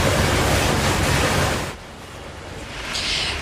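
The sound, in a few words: fire crews spraying water hoses on a burnt building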